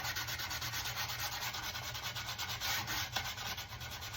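Hand sanding paint off the edges of an old wooden sewing table drawer, a close, rhythmic rasping scrub of repeated back-and-forth strokes with no talk.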